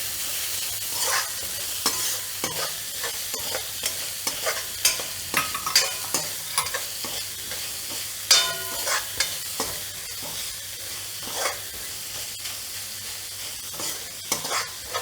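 Green onions stir-fry in a pan for Manchurian, giving a constant frying hiss with frequent irregular clanks and scrapes of a utensil being mixed through, close and without talk.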